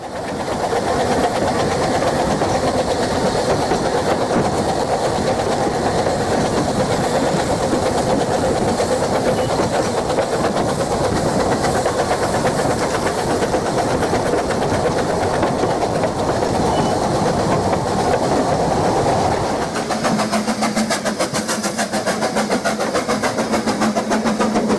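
A motor-driven model Peckett locomotive with simple cranks and gears reinforced with brass runs steadily, giving a continuous close mechanical whirr and clatter that changes tone near the end.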